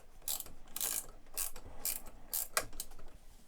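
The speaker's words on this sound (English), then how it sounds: "So I am going to use my ratchet screwdriver to get this in." A ratchet screwdriver drives a screw into a Dalek model build, giving a run of quick, close clicking ratchet strokes in uneven bursts about half a second apart, with no talking.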